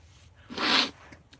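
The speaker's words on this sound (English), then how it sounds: "Oh, gonna sneeze." A single sneeze bursts out close to the microphone in a quiet indoor room, a short sharp breathy blast lasting under half a second between soft background stillness.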